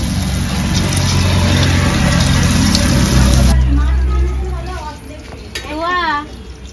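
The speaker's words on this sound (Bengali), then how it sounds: "হালকা আঁচে ভাজবেন, নইলে পুড়ে যাবে।" Prawn pakoras frying in oil on low heat, a loud close sizzle and crackle for the first few seconds that then fades as someone talks over it.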